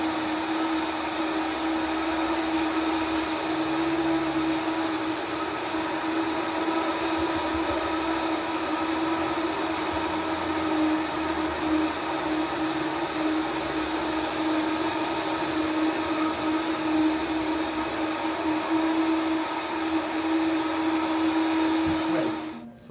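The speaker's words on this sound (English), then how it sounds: "now blending time. So we let blend that like for 4 minutes till it's hot." Blender running steadily on coconut milk and raw vegan ramen soup ingredients, a loud continuous motor whir with a steady tonal hum lasting about 22 seconds before cutting off abruptly at the end.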